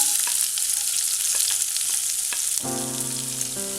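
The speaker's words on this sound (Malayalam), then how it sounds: "ജീരകം പൊട്ടിക്കഴിയുമ്പോൾ സവാള," Chopped onion sizzles in hot oil with cumin seeds for a bread burji, a steady loud frying hiss with faint stirring clicks, joined near the end by a sustained tonal hum.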